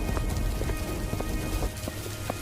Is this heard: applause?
no